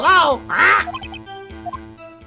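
Short squawking bird-witness voice bleeps from Phoenix Wright: Ace Attorney, a pair of loud quack-like honks followed by quieter chirping text blips over a steady game music backdrop.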